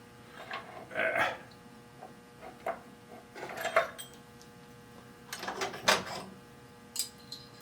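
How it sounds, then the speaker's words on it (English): Metal Allen wrenches clink and rattle in short bursts as a set is rummaged through during work on a motorcycle, with close irregular clatters separated by brief pauses. "Looking for the right Allen wrench here."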